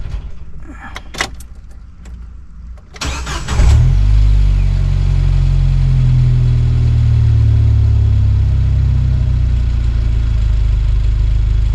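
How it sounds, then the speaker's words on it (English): A 1997 Jeep Wrangler TJ, fitted with a new throttle position sensor, is shut off, then cranks and restarts around the four-second mark. It settles into a loud, steady, close idle that runs to the end. "Let me kill it, start it again."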